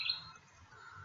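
Faint outdoor birdsong, a short high chirp at the start followed by soft thin calls over a quiet low rumble.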